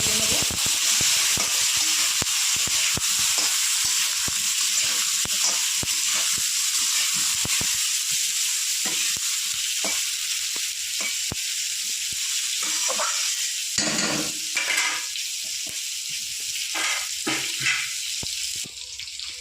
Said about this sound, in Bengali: পেঁয়াজটা একটু হালকা ভেজে